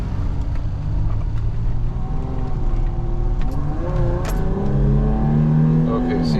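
Toyota Tacoma with a 3.4L engine, being checked for sluggish performance, revs under throttle with a steady engine drone that rises in pitch toward the end; close and continuous.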